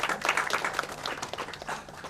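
Audience applause at a teacher award ceremony, a steady patter of many hands clapping at moderate loudness for a couple of seconds, with no talk over it.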